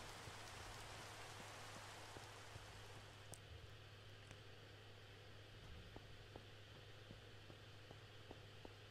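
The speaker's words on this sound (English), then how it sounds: "And it's raining again." Steady rain falls in the video game Minecraft, a dense, even hiss that runs unbroken throughout, with a few faint, scattered clicks and drips over it.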